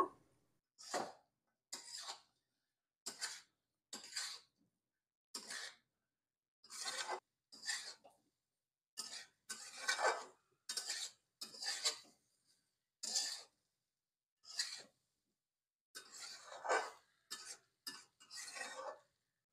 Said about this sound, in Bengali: সবকিছু খুব ভালো করে নাড়াচাড়া করে নেব।